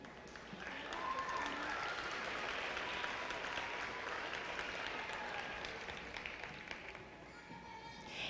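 Sustained audience applause at a glass pageant crowning its Glass Princess, steady and broad from start to finish with a few faint voices mixed into the crowd.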